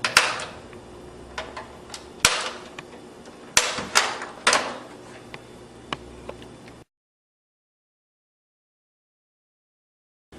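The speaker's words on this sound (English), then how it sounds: "Continue to apply pressure to separate the 2 and pop the tabs." Sharp plastic snaps and clicks as an Xbox 360's plastic case tabs pop apart, a handful of loud close cracks with quieter ticks between, then silence after about seven seconds.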